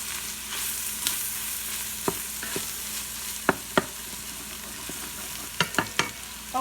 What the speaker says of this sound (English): I want to coat that seasoning on the meat.